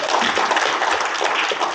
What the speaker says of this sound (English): Round of applause for number 2.